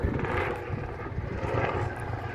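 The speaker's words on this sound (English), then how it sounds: "as they're flying a chopper through here" A helicopter flies overhead during station mustering, its rotor chop and engine roar rumbling broadly and steadily throughout. The sound is fairly distant and nobody speaks.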